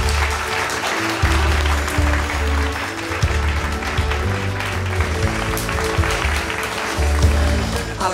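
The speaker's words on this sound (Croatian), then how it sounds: "Molim vas jedan veliki aplauz za Aleksu Fatića" A hall audience at an award ceremony gives sustained, even applause over music, a continuous wash of many hands clapping from start to finish.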